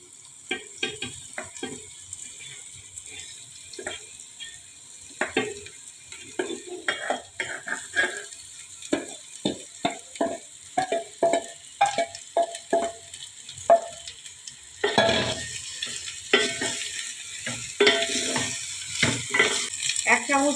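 Cooked rice and cumin powder are stirred in a frying pan, with quick, rhythmic spatula scrapes and taps over a sizzle that grows louder and fuller partway through.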